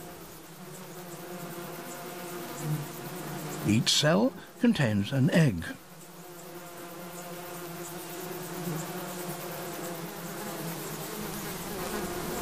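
Honey bees buzzing inside a small hive colony of about ten thousand, a steady low hum throughout with a louder burst of close wingbeats midway, under a narrator's voice.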